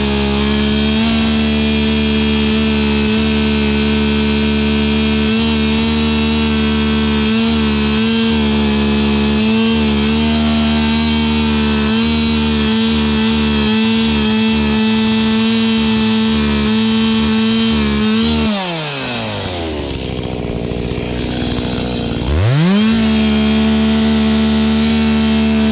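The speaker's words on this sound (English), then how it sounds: "There's a bearing going out on this drum grinder." A drum grinder with a failing bearing runs loud and steady with a dense mechanical drone, then winds down and spins back up near the end, close by with no talking.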